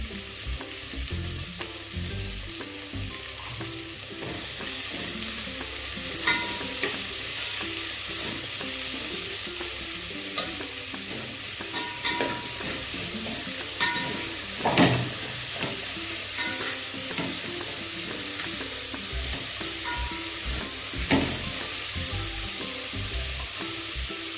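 Onions sauté for a brinjal gravy, frying in a pan with a steady, close sizzle, while occasional scrapes and clinks of a stirring spoon come through over the constant hiss.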